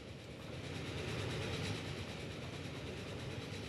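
Flying Scotsman steam train in Transport Fever 2 rumbles steadily with a faint clickety-clack of wheels, a continuous mid-level rail roar with no pauses across a few seconds.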